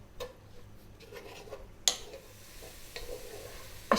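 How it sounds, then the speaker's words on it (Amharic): Onions cook without oil in a covered pan for an Ethiopian minchet abish stew, giving a quiet, soft sizzle with occasional stirring clinks and scrapes, close and faint. "ሽንኩርታችን ውሃውን እስከሚጨርስ ድረስ እናበስላለን፣ ዘይት ሳንጨምር ማለት ነው።"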